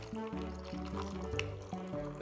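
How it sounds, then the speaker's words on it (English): Flash-chilled iced tea, hot tea poured over ice, streams steadily from a pitcher into a cup, a continuous close liquid pour with slight gurgling throughout. "All right, and we're ready to pour."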